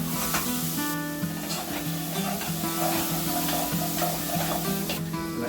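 Beans tipped into a pan of frying onions and garlic sizzle steadily while a utensil stirs and scrapes in a repeating rhythm, close and fairly loud, with no voices.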